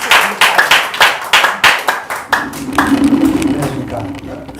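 An audience at a seminar claps in a steady, rhythmic burst to welcome the chairman onto the stage, the sharp hand claps fading after about two seconds into a low room murmur.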